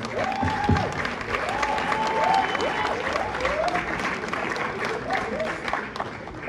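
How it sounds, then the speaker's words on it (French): Loud applause and cheering from an awards ceremony crowd, continuous throughout, with a voice speaking over the clapping. "Je vous demande de faire un tonnerre d'applaudissements pour les Lumumba Awards."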